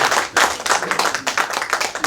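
Audience clapping at a civic coalition launch ceremony, a dense burst of many hands applauding in an indoor hall.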